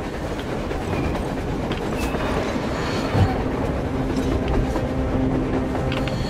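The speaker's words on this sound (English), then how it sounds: "A train! A damn train on the surface!" A train running on the surface in the video game Metro Exodus gives a loud, continuous rumble with rhythmic clickety-clack of wheels on rails, steady and unbroken, with no speech.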